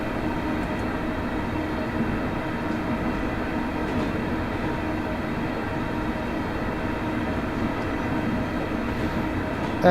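A Class 385 electric train in Train Simulator Classic on the Glasgow to Dunblane and Alloa line makes a steady, continuous rumble of running gear and motors at an even level throughout.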